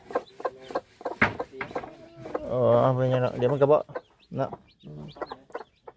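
Chickens cluck nearby in short, irregular bursts, one drawn-out squawk rising loud in the middle, while a person talks intermittently over them.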